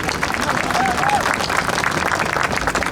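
An audience at a mayor's press conference claps in dense, sustained applause that stays loud and close for the full three seconds, with some crowd murmur mixed in.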